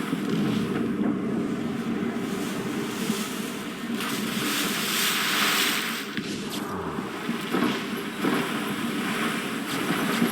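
Wind and rough sea during a squall while sailing in the Assassin's Creed Rogue video game, a continuous loud roar of gusts and rushing water with creaks and splashes throughout.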